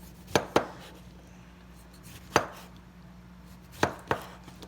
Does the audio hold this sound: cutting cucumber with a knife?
yes